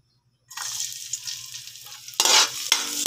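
Garlic sautés in oil in a pan for oyster adobo. Near silence gives way to a sudden close sizzle, which swells louder in two bursts near the end as the pan is stirred.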